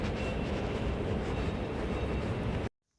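Early-morning tram in Tallinn pulling in to a stop, a loud continuous rumble of wheels on rail with a faint high squeal, holding steady before cutting off abruptly.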